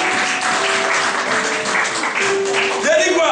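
A church congregation claps and cheers to acclaim Jesus during a French-language service, a dense, loud wall of applause with voices calling out and a sustained tone rising near the end.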